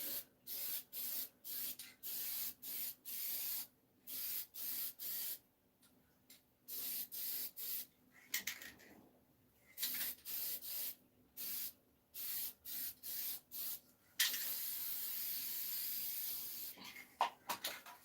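A spray can lays a first coat of paint on a farm toy in short repeated bursts of hiss with brief pauses, ending in one longer continuous spray, close and fairly quiet.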